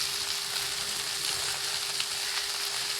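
Mustard seeds sputter and a grated coconut and leaf mixture fries in a pan. The result is a continuous, fairly quiet close sizzle with faint crackles and no talking.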